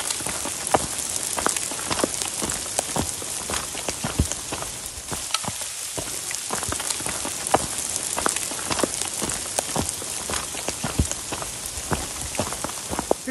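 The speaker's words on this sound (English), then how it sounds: "Here's a good illustration of Colorado weather. Just walk through that hail sleet over there." Hail and sleet falling outdoors on the Colorado Trail in the mountains, a dense, continuous patter of countless small icy hits with sharper individual ticks, steady and close throughout, with no voices.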